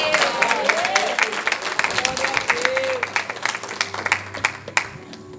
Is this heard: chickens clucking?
no